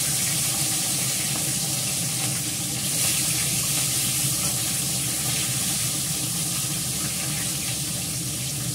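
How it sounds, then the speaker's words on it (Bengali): Large pieces of fish belly fry in a pan, giving a loud, steady, dense sizzle that runs unbroken throughout, with no talking. "তিনটে করে মাছ ভাজবো,"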